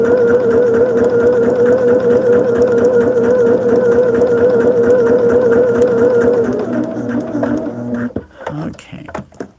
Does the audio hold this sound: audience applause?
no